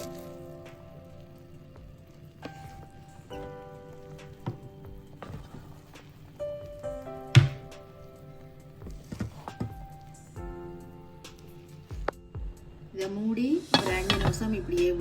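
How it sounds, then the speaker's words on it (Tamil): Vegetable rice is stirred in a cooking pot, making scattered metallic clinks and scrapes with a louder knock midway. The scraping grows busier and denser near the end, close by, and no one speaks. "சோறை கிண்டி விடுவான் எல்லாம் உவியட்டும்"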